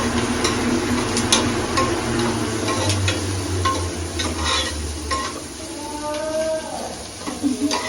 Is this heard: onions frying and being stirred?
yes